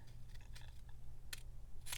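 Scissors snip through paper while trimming a mixed-media lapbook insert, giving a few quiet, brief cuts scattered over a low steady background hum.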